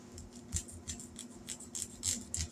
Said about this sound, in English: now we're going to cut this open